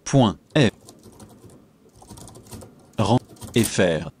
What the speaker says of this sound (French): Je vais taper l'adresse.